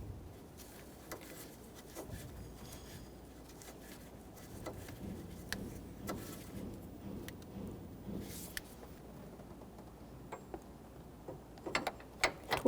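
A ratchet with a 24mm socket snugs down an AC condenser fitting on a 2005-2021 Nissan Frontier, giving sparse, faint clicks close by in a quiet workspace, with no talking.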